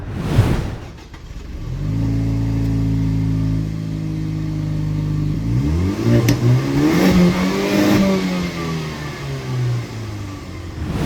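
A Jaguar F-Pace SUV engine idles with a deep exhaust rumble, then revs up twice, the pitch climbing and falling, loud and close from behind the vehicle.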